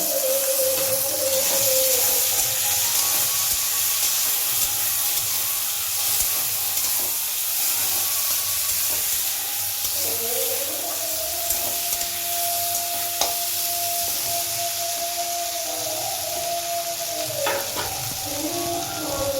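Beans fry in a pan with chopped ginger and torn green chilies, a steady loud sizzle with bursts of crackle and occasional stirring, with no voices.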